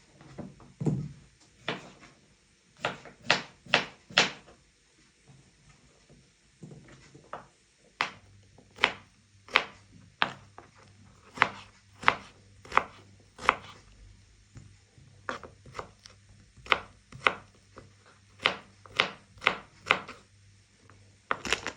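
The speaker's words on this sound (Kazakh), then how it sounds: "Қиярды турадық" A knife chops cucumber for a quick chips salad, producing a run of sharp, close, fairly quiet taps in quick bursts of several strokes with short pauses between, and no talk.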